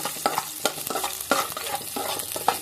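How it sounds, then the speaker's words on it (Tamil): Four or five garlic cloves and onion lightly frying in a pan for fish curry, with a steady sizzle broken by repeated close scrapes and clacks of a stirring spoon. "4-5 பல் பூண்டு போட்டுக்கலாம். லைட்டாக ரோஸ்ட் பண்ணிக்கலாம்"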